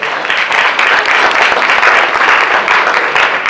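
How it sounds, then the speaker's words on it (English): Audience applause at a launch event at the DCU Center in Worcester, Massachusetts: loud, sustained clapping from a large crowd, steady for several seconds. "Well, we're doing some applause."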